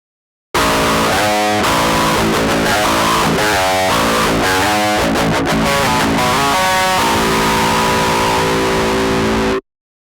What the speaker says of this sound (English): Without your impulse loader here, you're gonna have a shitty guitar tone like this.